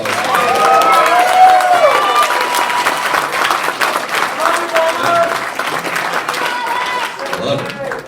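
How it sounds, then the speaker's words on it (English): Banquet audience giving a round of applause at a fraternity Founders Day dinner, loud continuous clapping mixed with cheers and whoops that holds strong, then eases slightly near the end. "How about a round of applause?"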